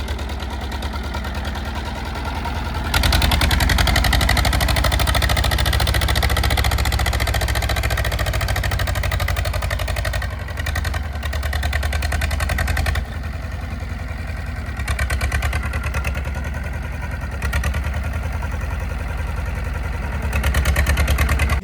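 A Swaraj tractor engine runs steadily as the tractor is lowered into a chamber. It makes a loud, continuous low diesel rumble with clattering texture throughout, and the level dips and surges slightly.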